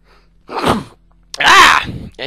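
Two loud sneezes close to the listener in the video game Metro 2033, the first with a sharp intake before it, the second bigger and more forceful.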